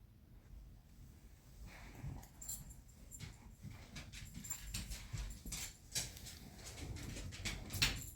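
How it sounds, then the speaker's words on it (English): A dog whines and pants softly nearby, with faint intermittent whimpers and small shuffling noises in a quiet room. "Pardon my dog's whining."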